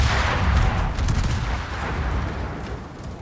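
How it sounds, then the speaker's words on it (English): A Baltimore cruiser's guns fire armor-piercing shells in World of Warships, giving heavy booming shots and rumbling battle noise that fades over a few seconds. "I can shoot AP here because I have improved AP angles"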